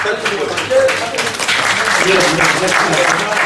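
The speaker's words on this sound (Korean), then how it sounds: "일단 박수로 받으시죠." Attendees at a Korean corporate general meeting clap together in a steady burst of applause, with murmured voices and talk mixed in beneath the clapping.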